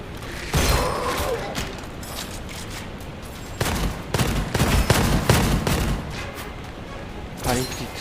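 Gunfire from the roguelite first-person shooter Gunfire Reborn, with repeated loud bursts of shots in clusters, some in quick twin blasts, over a steady game background.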